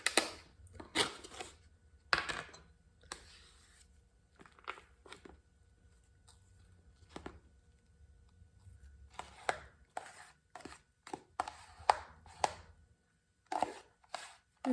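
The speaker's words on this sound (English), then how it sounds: "with the leftover Oreos, we're going to take them and crush them up" Leftover Oreo cookies are crushed in bursts, loud crunching and crackling strikes in irregular clusters separated by short quiet gaps.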